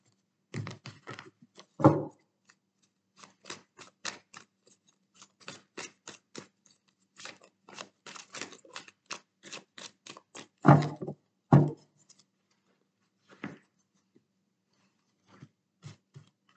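A deck of tarot cards being cut and shuffled during a reading, with a rapid run of soft, close card flicks and slaps, a few heavier thumps of the deck being set down, and no speech.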